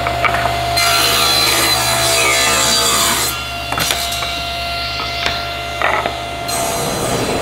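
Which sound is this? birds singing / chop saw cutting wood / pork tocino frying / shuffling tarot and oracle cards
chop saw cutting wood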